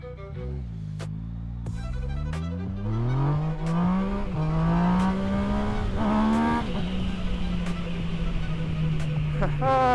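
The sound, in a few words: naked motorcycle pulling away in first gear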